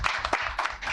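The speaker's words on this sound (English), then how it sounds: "Round of applause." Brief burst of audience clapping at a town candidates forum, a short ragged patter of hands lasting about a second.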